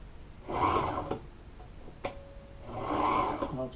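A sewing machine stitches a seam on boat captain chair upholstery in two short, close whirring runs separated by a pause with a few small clicks.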